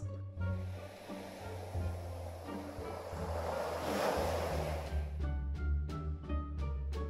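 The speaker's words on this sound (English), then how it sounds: "Waves." Ocean surf rolling and breaking in a steady wash, broad and fairly close, with a low rumble underneath and a brief tonal sound at the start and near the end.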